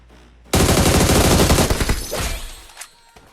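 Rapid gunfire from a shooting game played on an iPad Pro M4 tablet: a loud, dense burst of shots lasting about a second and a half, then trailing off into a few scattered pops.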